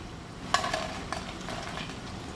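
Crisp crunching bites into freshly fried chicken pakoras, a few distinct sharp crackles close up against a faint background hiss, no talking.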